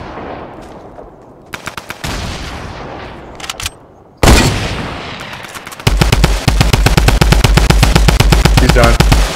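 Bursts of automatic gunfire and single shots in a Rainbow Six ranked match, growing from scattered volleys to loud, rapid sustained fire in the final seconds, with faint talk now and then.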